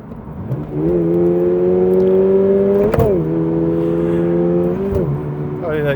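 Toyota GR86 (2022) engine revs hard, a steady rising harmonic drone climbing in pitch, dipping sharply around the middle and again near the end before building once more, loud and close.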